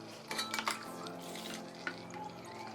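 Water is poured into cooking cassava couscous in a pot, a faint liquid splash and trickle with a few clinks against the cookware, close by over a steady low kitchen hum.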